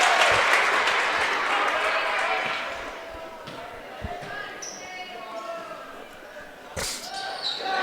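Crowd at a Buffalo State vs. New Paltz college basketball game cheering and clapping after a made free throw; a loud broad roar in the first seconds fades, with a commentator talking over it and sneaker squeaks later.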